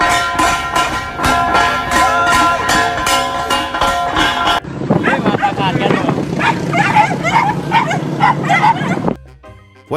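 Several dogs standing on a vehicle yip and bark in rapid, repeated bursts, with whimpering mixed in, all under a loud, busy background of music and voices that shifts partway through.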